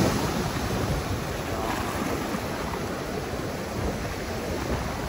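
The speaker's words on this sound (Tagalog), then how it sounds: "So ang lakas ng alon sa dagat sa Barok." Strong sea waves stirred by a typhoon churn along the coast at Barroc, Tigbauan, a constant heavy roar of surf and wind with no break and no voices.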